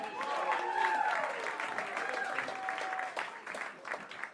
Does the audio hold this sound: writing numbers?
no